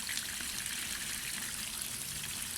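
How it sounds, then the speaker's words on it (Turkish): Ordinary tap water sprays and splashes steadily over a radiator panel being rinsed, a continuous close hiss of running water with no talking. "Peteğe zarar vermeden, motora zarar vermeden normal çeşme suyuyla bu şekilde temizliyoruz"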